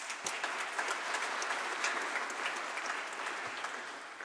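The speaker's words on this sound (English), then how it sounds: "If you could give them a round of applause." An audience at a conference closing session in the Czech Republic gives a sustained round of applause, dense and even throughout and gradually easing toward the end.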